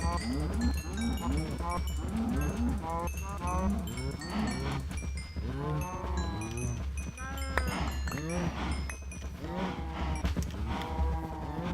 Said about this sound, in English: please tell me there weren't a bunch of baby cows in there